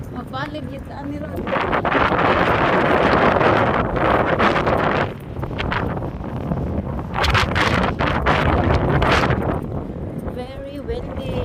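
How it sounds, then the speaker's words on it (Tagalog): Strong gusty wind buffets the microphone throughout a storm walk in England, roaring steadily with surges and brief lulls, close and loud, with trees likely rustling beneath. "Very windy."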